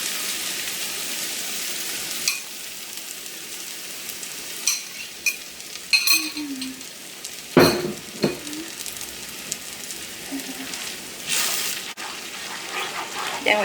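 Eggs scrambled with chili powder fry in a pan for egg bhurji, a continuous sizzle broken by scattered scrapes and clinks of stirring, with a voice briefly heard.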